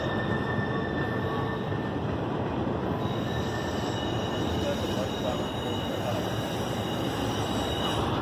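Freight train passing through Elkhart, Indiana, a continuous loud rumble of rolling wagons with high, steady wheel squeal running throughout, close by and with no pauses.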